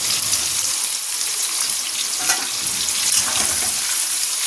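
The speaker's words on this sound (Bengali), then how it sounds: "চলো এটা ভেজে নিই।" Young jackfruit frying in a pan, a loud, continuous dense sizzle close up with no talk.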